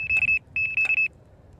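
A Fox MR+ carp fishing bite alarm set to its high-pitched tone sounds two clear electronic beep bursts in quick succession, loud and close, with quiet background between.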